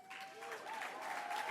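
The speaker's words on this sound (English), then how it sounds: "you're welcome to cheers and applause" A gala audience at the BCPP Luminary Gala 2024 claps and cheers for sponsors, a steady wash of applause throughout, moderately distant and even.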